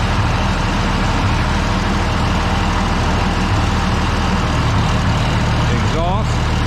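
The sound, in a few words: IH 1026 tractor engine idling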